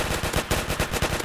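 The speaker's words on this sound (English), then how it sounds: "you haven't seen the LMG go into full action yet" An LMG fires on full auto in the Roblox game Alien Defence, a loud, rapid, unbroken stream of close gunshots pounding without pause.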